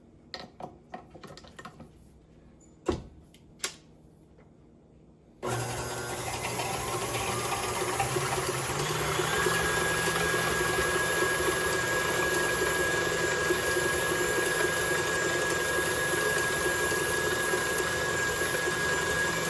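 An electric mixer whips cream for a banoffee pie: a few light clicks and knocks, then a loud steady motor whir starts and runs continuously close by.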